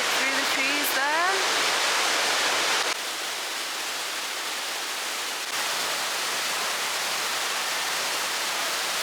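A waterfall in the Brecon Beacons of South Wales, seen through trees, gives a steady, loud broadband roar, with a brief rising whistle-like sound near the start.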